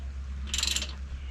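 Bolts being loosened on a Harbor Freight modular welding table frame, a brief fast ratcheting click burst lasting about a third of a second over a low steady hum.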